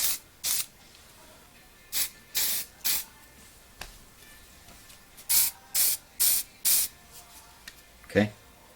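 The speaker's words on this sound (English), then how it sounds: "I want to spray that, spray the back" Short bursts of spray hiss repeat close by, from a pressurized spray can in quick uneven pulses, with a brief rattle near the end.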